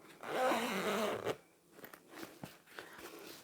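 A zipper pulled closed along the opening of a sewn fabric pouch, one steady rasping run up close, followed by a few soft handling taps and rustles.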